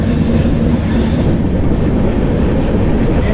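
A train on the Vizag to Araku route rumbles steadily along the tracks, a loud continuous roar of wheels and carriages with a faint high squeal, no voices.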